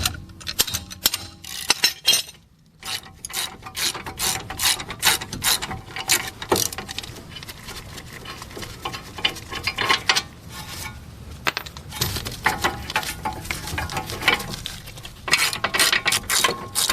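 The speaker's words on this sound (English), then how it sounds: "Next, we're going to be removing the caliper bracket bolts, and there's two of them back here, and that's just going to be a 21mm." A ratchet loosening the two 21mm caliper bracket bolts on a Buick LaCrosse during CV axle replacement, a fast close clicking ratchet rattle in repeated bursts with brief pauses and occasional metallic clinks.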